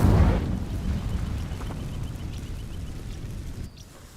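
Incendio fire spell igniting dry vines in Hogwarts Legacy, a loud whooshing burst of flame at the start that fades into a sustained crackling roar before cutting off near the end.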